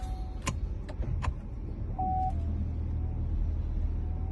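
A car is started with a push-start button after a touch of the brake: a few light clicks, a short electronic beep, then a low, steady engine idle hum settles in.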